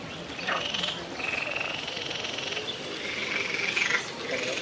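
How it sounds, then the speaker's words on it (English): Noisy frogs croak in a garden in Morocco, repeated rasping calls rising and falling over a steady chorus of background calls, moderately near and fairly quiet overall. "Then there's noisy frogs."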